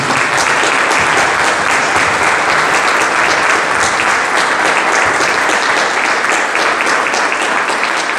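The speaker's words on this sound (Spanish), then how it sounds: "pedirle un fuerte aplauso al gestor de todo esto, que es nuestro querido senador Martín" Loud, sustained applause from a large crowd honoring a senator at a community event handing out equipment to entrepreneurs, a thick continuous roar of clapping throughout.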